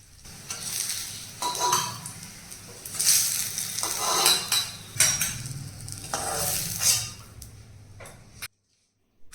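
Four dry red chillies sizzle in hot oil left over from frying brinjal, a loud steady crackle broken by stirring and utensils scraping the pan, ending in sudden silence.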